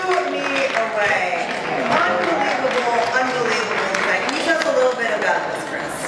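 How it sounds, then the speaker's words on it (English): A convention audience applauds in a dense, sustained burst of clapping that stays loud and even throughout, with voices talking and cheering over it. "So I just want a big round of applause for you guys."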